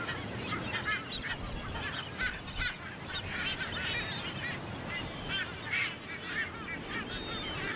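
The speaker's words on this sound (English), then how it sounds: "They are Ascension Island frigates, found nowhere else on Earth." Ascension Island frigatebirds call from a seabird colony on a tiny offshore island, a dense overlapping chorus of harsh honking cries, loud and continuous with no talking.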